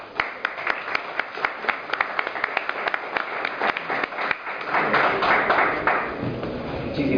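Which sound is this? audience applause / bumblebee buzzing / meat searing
audience applause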